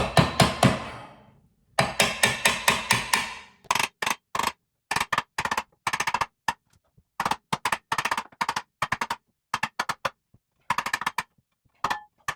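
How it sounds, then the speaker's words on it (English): Rapid bursts of hammer blows striking a metal rail of a guitar wall mount into place, loud and close, in quick clusters separated by short pauses; no talking. "Hammering it in."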